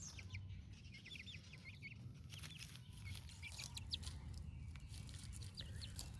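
Young chickens in a garage peep and chirp almost constantly at a moderate distance, with soft clucks mixed in over a steady low rumble of background noise.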